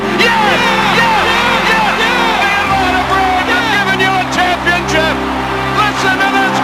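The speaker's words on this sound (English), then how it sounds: "Listen to this crowd." A baseball stadium crowd roars as the Atlanta Braves win the 1995 World Series, with loud sustained cheering, shouts and whoops filling the space beneath excited broadcast commentary.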